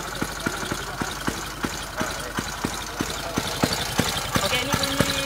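Tuned motorcycle engine (EX5) idling with a loping, uneven "horse timing" beat, regular sharp knocks over a steady hiss, fairly close and moderately loud.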